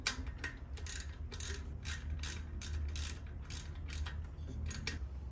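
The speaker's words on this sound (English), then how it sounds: "Now I'm gonna put the spark plugs in," A hand ratchet fitting spark plugs into a motorcycle engine with Screaming Eagle cams, a run of quick clicking pawl strokes in short bursts over a low steady hum, close and clear with no talk.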